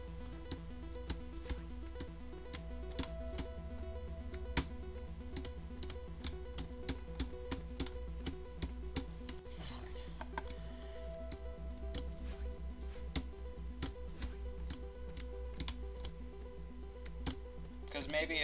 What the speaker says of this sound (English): I press all my keys really hard.